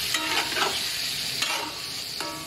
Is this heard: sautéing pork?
yes